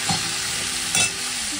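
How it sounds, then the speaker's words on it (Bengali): Potatoes frying in a pan give a dense, steady hiss of sizzling oil, close and loud throughout, with a couple of brief stirring scrapes. "আর এখানে আলু পোস্ত করবো, সেই আলুটা ভাজা বসিয়ে দিয়েছি"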